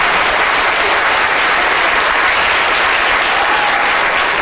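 Loud, dense applause from an audience fills the room steadily from start to finish, with no pauses or voices standing out.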